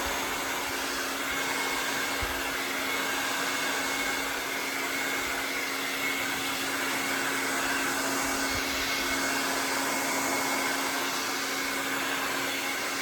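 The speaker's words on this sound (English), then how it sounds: "I love this blow dryer because it's got 3 different settings." A three-setting blow dryer drying hair at home runs as a loud, steady roar with a constant hum, unbroken for the whole stretch.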